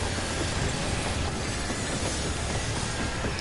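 Steady broadband rumble of a train moving in Final Fantasy XIV, a continuous dense rolling clatter at even loudness with no gaps, no voices over it.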